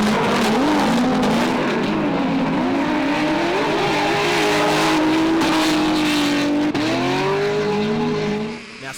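Drift cars race around Barbagallo Raceway in an Australian Drifting GP round, one car chasing close behind another, with loud sustained engine whine that shifts and climbs in pitch alongside continuous tyre noise throughout.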